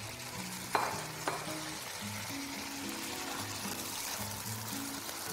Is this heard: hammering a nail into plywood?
no